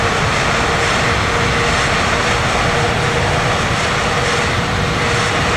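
An airliner's engines roar steadily in reverse thrust during landing rollout in Microsoft Flight Simulator, a loud, constant broadband rush with no breaks.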